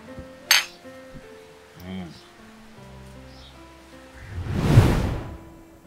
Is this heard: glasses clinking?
yes